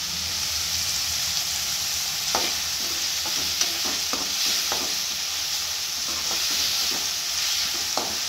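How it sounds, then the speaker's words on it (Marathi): Ingredients for a dal with raw mango, tomato and pumpkin sautéing in a pan: an even background sizzle with a series of soft scraping stir strokes in the middle stretch, close and steady. "ह्याला व्यवस्थित परतून घ्यावं लागेल।"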